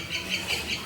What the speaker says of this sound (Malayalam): കിളികളുടെ സൗണ്ട് കേട്ടോ